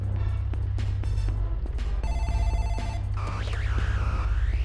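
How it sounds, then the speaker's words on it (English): A telephone rings in a horror video game, a loud electronic ring repeating in bursts over a low droning hum, followed by a wavering screech-like tone near the end. "Suddenly the game is over and the phone is ringing again."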